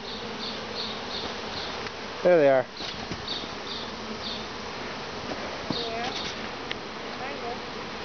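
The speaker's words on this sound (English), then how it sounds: "That's a lot of bees." A honey bee swarm hums as a steady, dense buzz throughout, with people talking briefly over it and a short loud burst of handling noise partway through.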